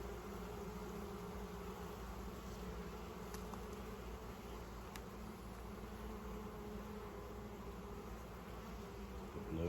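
Honey bees buzz steadily at a beehive on a homestead, a faint, continuous drone with no break and no voices.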